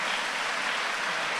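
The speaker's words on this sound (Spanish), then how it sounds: "Gran aplauso a nuestros panelistas" Applause from a festive gathering for the panelists, a steady dense wash of many hands clapping at moderate level with no talking.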